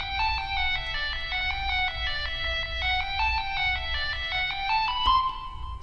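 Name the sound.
second lead melody in a song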